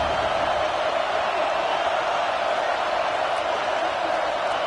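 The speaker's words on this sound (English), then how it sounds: "Listen to the crowd energy here in the early going. This is a tough environment for visitors." Stadium crowd in the NCAA 25 college football video game: a dense, constant roar of many voices rolls on evenly at a steady loud level, a distant wall of cheering with no distinct breaks.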